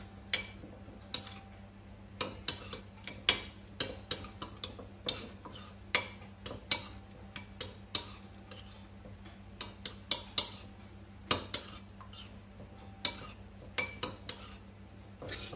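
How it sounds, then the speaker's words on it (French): A spoon stirring kirsch into cherry jam in a bowl, giving quiet, rhythmic clinks and scrapes against the side, repeating steadily over a low hum. "on va tout simplement donc bien mélanger, il faut bien intégrer le kirsch dans la confiture"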